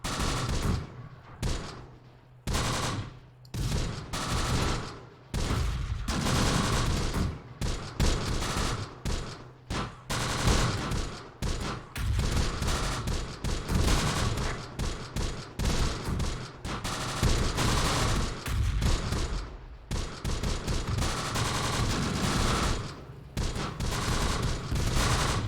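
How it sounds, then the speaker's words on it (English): Machine gun fire in the Close Combat wartime video game, dense bursts of rapid shots in a steady cluster of volleys, with no talk. "Let's run here, see if we can beat the sniper while the machine gun is suppressing the sniper."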